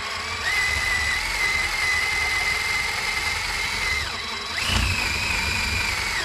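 Eraser wheel spun on a drill, stripping adhesive from a truck body: a steady high whine with a grinding rasp, briefly dipping and then rising again as the tool bites.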